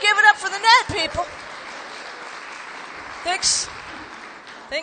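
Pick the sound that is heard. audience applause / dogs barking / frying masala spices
audience applause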